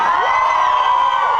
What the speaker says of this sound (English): If you all cheer her, she might do it.